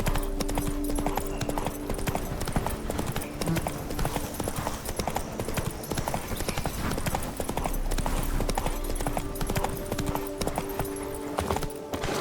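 Roach, a horse in The Witcher 3, gallops with steady, rapid hoofbeats under a dense, continuous game soundscape, with a faint voice now and then.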